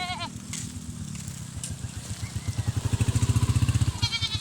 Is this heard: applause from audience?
no